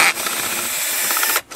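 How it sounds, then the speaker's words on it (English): A power drill runs steadily while working on a part of a Stihl 045/056 AVE chainsaw being revived, a continuous close whirring for about a second and a half that cuts off abruptly at the end. "Almost broke the drill, I think, getting that one."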